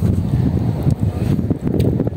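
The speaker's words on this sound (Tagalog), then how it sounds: "Lakas kasi ng hangin." Strong wind by the water buffets the microphone in uneven, close gusts of low rumble that rise and fall without pause.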